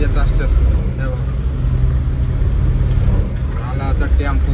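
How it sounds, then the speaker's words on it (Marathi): Tempo truck pulling up amid busy road traffic in Pune, a loud low engine rumble with passing vehicle noise, while someone speaks over it. "आला आता टेम्पो बी"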